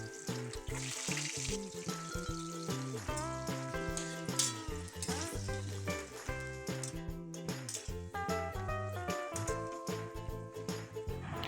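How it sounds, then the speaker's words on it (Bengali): Potatoes fry in hot oil in a wok, giving a steady sizzle beneath prominent background music that plays throughout. "কড়াইতে তেল দিয়েছিলাম আলু ভাজার জন্য"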